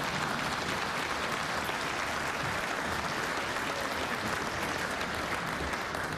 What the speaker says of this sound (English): you can applaud for the American dream.